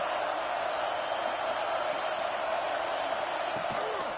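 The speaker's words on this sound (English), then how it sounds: "This crowd ready to make its presence known." Stadium crowd in a college football video game, a steady, loud broadband roar of fans held at a constant level throughout, with faint thuds and whoops rising near the end.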